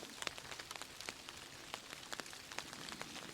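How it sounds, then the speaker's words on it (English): Rain patters on a tarp in a forest during an ice storm, scattered sharp drops tapping irregularly against a soft steady hiss, close and fairly quiet with no voices. "I was just sitting here, just listening to the rain."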